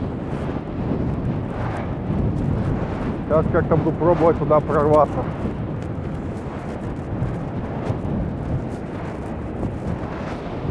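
A strong storm wind roars across the central beach at Anapa, buffeting the microphone with heavy, continuous rumbling gusts while someone speaks briefly.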